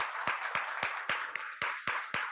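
A church congregation claps in a steady rhythm, about eight evenly spaced claps over two seconds, moderately faint against a sustained reverberant background.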